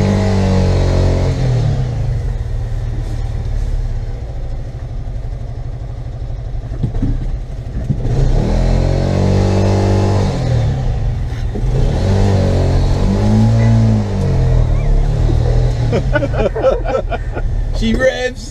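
A Bajaj Qute small car's engine revs and pulls while driving through Ankara, a mid-pitched motor rising and falling in pitch close by, with voices chatting over it.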